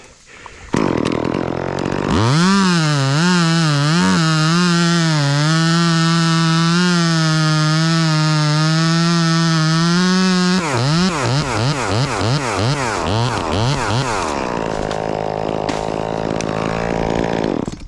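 A chainsaw cuts a hinge into a dead oak tree, its engine revving up and holding a loud, steady buzzing drone for several seconds before the pitch wavers and drops back toward idle, close and dominant.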